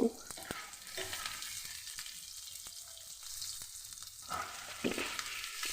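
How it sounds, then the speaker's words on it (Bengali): Okra frying with onions and green chili in a pan over high flame, a steady loud sizzle broken by repeated scraping and stirring clatters throughout, with no voices. "ভেন্ডিগুলোকে দিয়ে ভালো করে পেঁয়াজের সঙ্গে মিশিয়ে দেব হাই ফ্লেমে রান্নাটা করছি"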